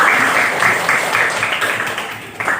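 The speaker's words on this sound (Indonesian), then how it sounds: "Kita kasih aplaus untuk kelompok 3." Applause for a group's classroom presentation, a steady wash of many hands clapping at close range, with a few sharper claps standing out and no break in the sound.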